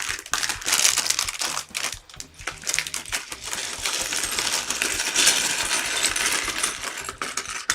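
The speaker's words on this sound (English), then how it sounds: "Oh, the sweet sound of falling bricks." LEGO bricks from a LEGO City Formula 1 truck set tumbling out of a bag, a dense, loud clatter of small plastic pieces rattling and skittering for several seconds.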